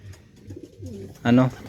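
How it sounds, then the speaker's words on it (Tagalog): Racing pigeon cooing after returning to its loft, a soft throaty coo followed by a louder close call, with someone talking quietly nearby. "So dumating na yung ibon natin."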